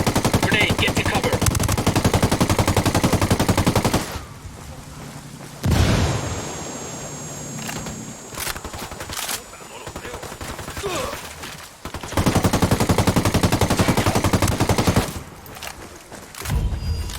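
Firefight in Ghost Recon Wildlands with loud, close bursts of automatic gunfire, a quieter lull mid-way with scattered distant shots and booms, then heavy rapid fire resuming.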